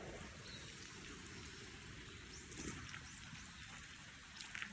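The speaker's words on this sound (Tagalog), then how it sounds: "umuulan" Rain falls steadily on a farm on a foggy morning, a soft, even hiss of drops with occasional louder patters and drips nearby, fairly quiet throughout and with no voices.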